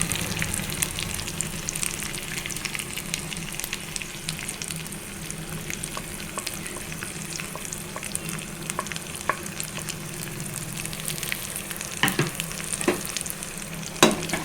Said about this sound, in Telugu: మంచిగా ఫ్రై అవ్వాలండి.